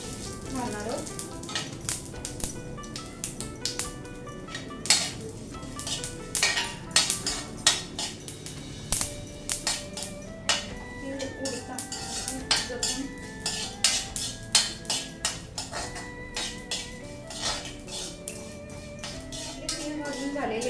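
Sesame seeds roasting in a pan with fresh coconut for a Marathi chutney, with frequent metallic clinks and scrapes of a spoon stirring against the pan over a soft sizzle, a voice talking intermittently.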